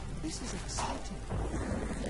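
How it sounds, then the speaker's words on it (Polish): Rain falling in the video game Trine, a steady broadband wash of rainfall with faint rumbling, someone talking over it. "O, deszcz pada."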